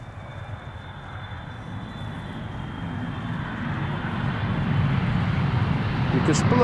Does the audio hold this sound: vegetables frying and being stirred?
no